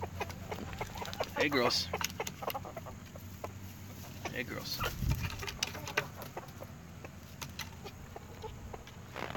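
Hens in a backyard flock in Dunlap, Tennessee cluck softly and intermittently while someone speaks to them.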